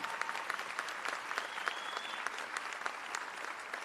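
Applause fills the Illinois House chamber, a steady dense clapping from many lawmakers that holds at an even level throughout, with no speech over it.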